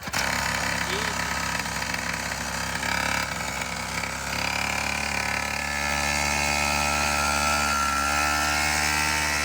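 The engine of a saw blade monster truck runs at a loud, steady, rattling idle, droning continuously throughout without pause.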